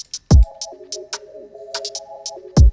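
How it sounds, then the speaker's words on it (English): A UK drill hi-hat pattern programmed in FL Studio, with crisp repeated hi-hat ticks over a sliding 808 bass line and two heavy kick hits, alone and up close. "And for the hi-hats I just had one main pattern"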